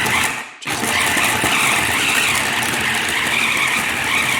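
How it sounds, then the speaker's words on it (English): A food processor grinds meat with a loud, steady, high-pitched whirring roar that briefly dips at the start, then runs on continuously and close. "Now you're in the food processor, and you're just gonna process it."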